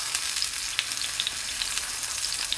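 Eggplant frying in a small pan of hot oil, a steady crackling sizzle with dense bright pops, close and continuous with no voices.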